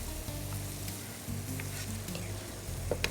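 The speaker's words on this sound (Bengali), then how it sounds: "এখন দিচ্ছি হচ্ছে টক দই।" Sour yogurt hits a hot pan already holding nut paste of cashews and pistachios, giving a loud, continuous close-up sizzle and crackle with faint stirring.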